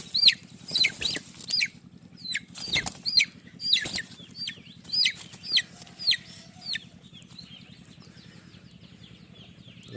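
A desi hen being treated with turmeric on a wound clucks and squawks in a rapid series of sharp calls with bursts of wing flapping, close by, before settling into a low, steady hum.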